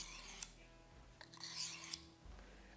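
A butcher knife blade swiped across a sharpener during sharpening, two crisp scraping strokes with brief rasping bursts, close and fairly quiet, with no talking.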